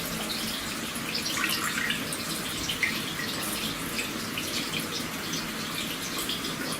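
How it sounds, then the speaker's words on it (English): Rose distillate drips and trickles from a distillation apparatus heated to about 100 degrees centigrade, a steady, continuous watery hiss with small droplet ticks and no voices. "you should start to see it dripping through now"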